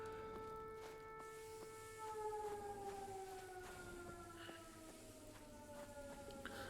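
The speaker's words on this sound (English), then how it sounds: "If there goes the siren, I can actually hear it now proper." Civil defense siren in the video game Fallout 4 during a Nuclear Winter match, a steady wailing tone with layered harmonics that slowly falls in pitch, sounding distant under game noise.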